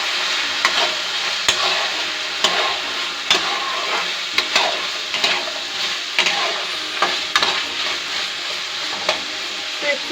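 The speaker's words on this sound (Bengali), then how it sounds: "একটু লাল লাল করে ভাজা হোক," Lentil tempering with turmeric powder frying in a pan, a steady close sizzle broken by regular sharp scrapes and knocks of a spoon stirring roughly every second, no talk.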